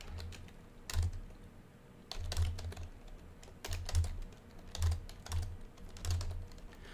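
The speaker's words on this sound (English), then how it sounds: "I'm going to keep typing things out here." Typing on a computer keyboard on a desk, heard as bursts of quick keystrokes with short pauses between, close up and fairly loud, with no talking.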